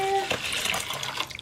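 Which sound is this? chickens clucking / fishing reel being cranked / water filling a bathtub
water filling a bathtub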